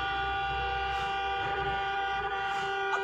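A loud car horn blares continuously for several seconds on a highway, a steady droning tone held without pause.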